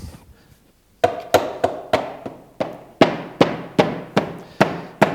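A rubber mallet taps glued parquet flooring into place, giving about a dozen sharp, close knocks at a steady, fairly quick rhythm after a brief quiet start.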